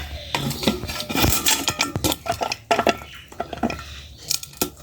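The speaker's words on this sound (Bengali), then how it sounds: "গাজরটা ছোটো ছোটো করে আমি কেটে নেই" A knife chops carrots into small pieces on a board, making rapid, irregular, close tapping strikes with light clattering, and no voices.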